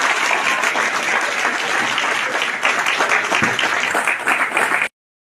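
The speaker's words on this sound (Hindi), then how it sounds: "60 पूरी खाई है, 60 पूरी, एक बार जोरदार तालियां।" A crowd of police trainees claps loudly for a head constable after an eating contest at a feast before a passing-out parade, a thick continuous burst of applause that runs steadily for about five seconds and then cuts off abruptly.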